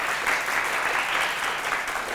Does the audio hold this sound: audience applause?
yes